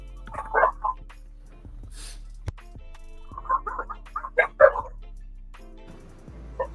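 Dog barking in short bursts spread through the moment, fairly close and moderately loud, with sharp yips between them and no talking.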